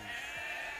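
Sheep bleating inside a medieval real-time strategy game match, a short steady bleat sitting over a continuous bed of game ambience with no talk.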